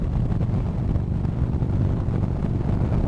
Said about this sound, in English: it is still like it's super windy right now